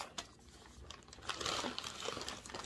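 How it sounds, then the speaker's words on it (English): A cat tearing and shredding paper nearby, a steady run of crinkling, ripping rustles that swell louder toward the end, with no talk over it. "He can rip up, he likes to rip paper."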